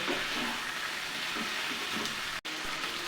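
Chopped tomato frying in oil for a country chicken curry, a soft steady sizzle with faint stirring scrapes, briefly cutting out for a moment before resuming.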